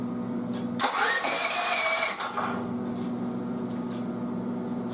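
A choked 10-year-old mobile welding generator engine cranking and trying to start, a loud close mechanical burst and rising whine over a constant hum, then settling back to a steady drone.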